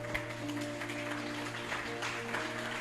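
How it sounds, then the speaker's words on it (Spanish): A church congregation claps for the Lord in a fairly quiet, continuous patter of hands over a steady low electrical hum, with no voices standing out. "Dele fuerte ese aplauso al Señor"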